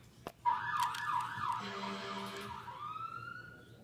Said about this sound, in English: Perhaps the foghorn really is useful.